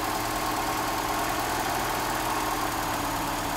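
Steady, even idle of a Mercedes-Benz W123 230E engine during mixture adjustment, a continuous close rumble with no talking.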